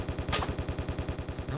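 Rapid automatic gunfire in Tomb Raider: The Last Revelation, a steady rhythmic stream of low thumping shots at an even fast pace, with one brighter crack standing out early, moderately quiet overall.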